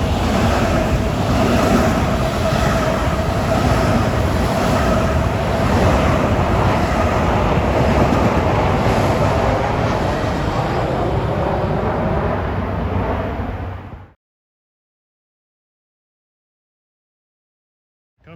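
LIRR train 111 from Babylon to New York, made up of M9 cars, roaring steadily past Rosedale station with a broad, loud rush of noise before cutting off abruptly.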